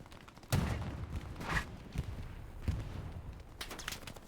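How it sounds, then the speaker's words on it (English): Grenades explode in the Hell Let Loose World War II shooter on Utah Beach, a few muffled distant booms and pops scattered across a quiet battlefield background. "they're throwing grenades at him."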